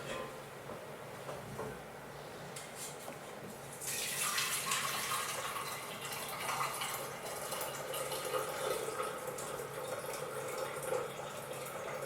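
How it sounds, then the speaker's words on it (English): Chinese herbal medicine pours through a sieve into a container, giving a steady trickle that swells into a louder, fuller splashing stream midway and keeps running until the end. "we're going to take our sieve and we're going to decant them into a container."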